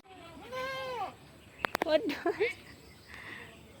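A goat bleats in a wavering cry, followed by a few short sharp clicks and more bleats, with faint talk nearby.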